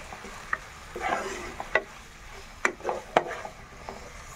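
Food sizzling in a pan with intermittent stirring and sharp clicks of a utensil against the pan, close and moderately loud.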